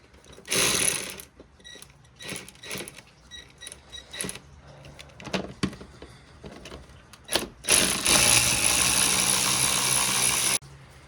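A hand ratchet works on the bolts of a Ford Fiesta Mk7 air filter housing, sending out several bursts of rapid clicking with short pauses between them, then a longer steady run of ratcheting near the end, close and fairly loud with no talking.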